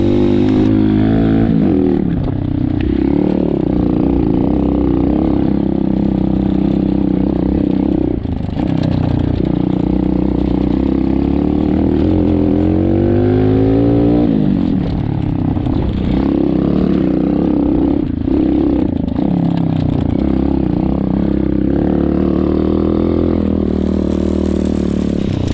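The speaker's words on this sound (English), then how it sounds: "This road right here really shows just how well this bike doesn't care whether you're going fast or slow." An X-pro Storm 150 DLX motorcycle ridden on a desert-to-mountain trail, its small engine droning loud and close throughout with shifting revs and rattling over rough ground, plus wind buffeting.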